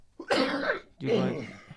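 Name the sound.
cough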